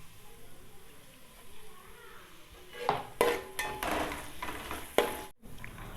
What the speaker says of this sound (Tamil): கொஞ்சம் புதினா சேர்த்து ஒரு 5 செகண்ட்ஸ் வதக்கிக்கலாம்.